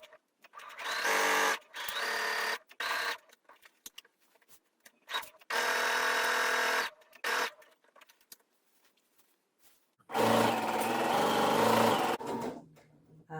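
A sewing machine stitching fabric while a Scout tee is being sewn, running in three loud, close bursts of steady whirring stitching lasting a second to two seconds each, separated by quiet pauses with faint handling.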